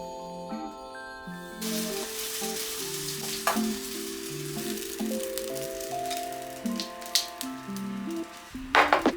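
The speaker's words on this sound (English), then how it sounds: "I added the mixture to the pan and then just kept my eye on them, cooking them until they were golden brown" Pancakes frying in olive oil in a pan, a continuous close crackling sizzle over light music, with a few sharper spatters near the end.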